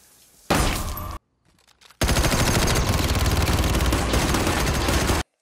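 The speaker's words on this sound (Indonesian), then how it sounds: "dengan secepatnya Paul mengambil senjata yang telah dia persiapkan lantas segera memberondong sang pelaku hingga tewas seketika" Gunfire in a scene from the film Death Wish: a short loud burst, a pause, then a long sustained rapid-fire volley lasting about three seconds before stopping abruptly.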